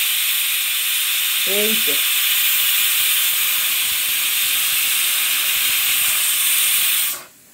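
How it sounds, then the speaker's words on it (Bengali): A pressure cooker on the stove, with vegetables and chicken inside, sends out a loud, steady hiss of escaping steam for about seven seconds before it cuts off abruptly. A person says a couple of brief words partway through. "এখান দিয়েই কেবল ধোঁয়া বেরোচ্ছে, এটাতে কোনো কাজই হচ্ছে না।"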